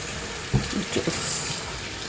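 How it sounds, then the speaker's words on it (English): Tap water runs over hands at a kitchen sink during lasagna preparation, a soft steady splashing with a few louder splatters, heard alone and fairly close. "Just wash my hand."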